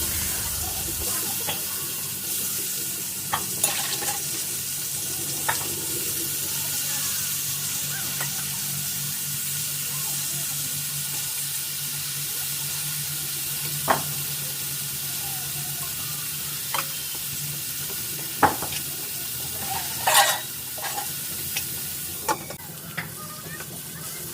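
Eggplant fries in a pan over a clay stove with a steady, soft sizzle throughout, punctuated by occasional light clicks and stirring scrapes, and no voices.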